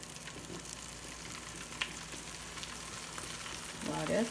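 A soft, steady sizzle of food frying in a pan, with a brief louder crackle near the end.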